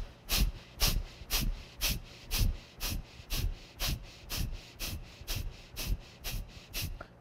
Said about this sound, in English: breath of fire, deep breath in